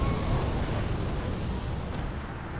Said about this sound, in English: Oh, is that an explosion?